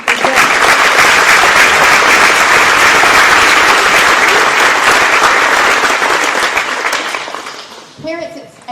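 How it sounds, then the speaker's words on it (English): Parents, grandparents and friends at an elementary school awards day break into loud, sustained applause lasting about seven seconds, then tapering off as a voice resumes. "That deserves a round of applause"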